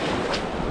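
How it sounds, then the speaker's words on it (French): Outdoor wind while fishing in winter, rushing as a steady broadband hiss and buffeting against the microphone, with no talk. "Il y a quand même un peu de vent là."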